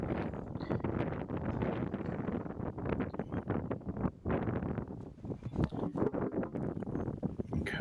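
Gusty wind over a disc golf course at a tournament, a rough continuous rumble battering the microphone with brief lulls between blasts.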